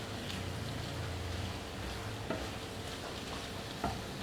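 Chicken frying in a pan with garlic masala, a steady low sizzle running throughout with a couple of soft clinks as it is stirred, and no voices.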